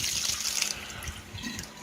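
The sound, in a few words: pouring soaked seeds and water into sink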